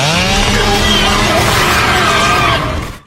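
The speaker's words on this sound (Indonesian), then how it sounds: "akhirnya gergaji itu menyala" A chainsaw roars at full throttle in a horror film scene, a loud, continuous buzzing drone with shifting pitch that runs steadily for about three seconds, then cuts off abruptly.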